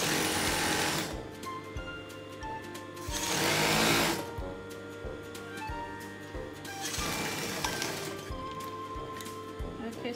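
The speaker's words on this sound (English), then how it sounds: "I sew it slowly because I want the shape to come out" A sewing machine stitches a mermaid skirt panel in steady bursts of rapid mechanical whirring, starting and stopping several times, with a voice speaking in between.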